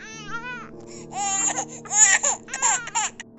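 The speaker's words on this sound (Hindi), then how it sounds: "चारों तरफ छोटे बच्चों की रोने की आवाज़ें आ रही थी।" Several infants wail and whimper together, their cries rising and overlapping in loud, strained bursts close by.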